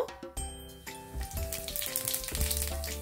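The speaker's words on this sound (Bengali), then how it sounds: "এখন আমি 1/2 চামচ জিরে নিয়েছি, ফোড়নে দেব।" Half a teaspoon of cumin seeds hits hot oil for tempering, giving a loud, steady sizzle and crackle that swells after the first moment and carries on throughout. Tinkling sounds of a utensil sit on top, and nobody speaks.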